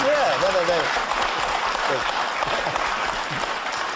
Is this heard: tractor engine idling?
no